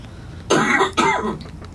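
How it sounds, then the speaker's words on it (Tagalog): A person coughs twice in quick succession, close and fairly loud, each cough a short harsh burst with a raspy tail, with no talking around it. "grabe akong ubo actually."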